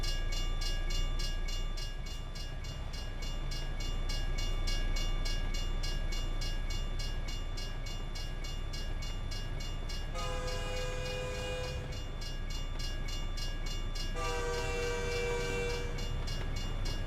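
A train passes a truck in American Truck Simulator with a steady rumbling roll throughout, and its horn sounds twice in long, loud blasts near the end.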